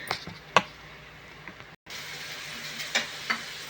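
Onions fry in a pan for an egg curry, giving a soft, steady sizzle with a few brief pops and a short dropout midway, with no talking.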